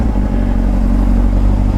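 Honda CBR600 motorcycle engine running in first gear while riding, a steady close low rumble with continuous mechanical whir and slight clatter throughout.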